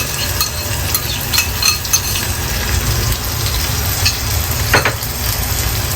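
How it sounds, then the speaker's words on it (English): Stuffed bitter gourd frying in oil and yogurt over a lowered flame gives a steady, close sizzle with soft bubbling and occasional stirring scrapes, with no talking. "I'm going to just cook it as the oil starts to separate from the yogurt"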